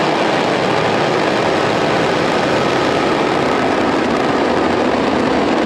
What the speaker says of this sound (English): Engines full power and liftoff.